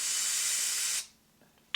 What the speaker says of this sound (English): as I'm spraying this blaster on the wheel nut, it's taking it off